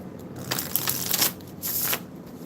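Tarot cards are shuffled by hand during a card reading, producing two short, close bursts of riffling and slapping paper over a quiet room.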